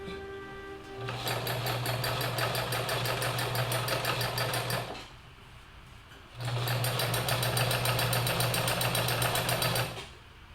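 Sewing machine stitching patio cushion fabric, running in two long steady bursts of rapid mechanical whirring and clatter with a short pause between, close and loud.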